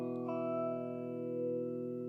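A sci-fi guitar tone from iPad effect apps holds a sustained, shimmering note, with echo and reverb drawing it out into a steady ring that slowly decays.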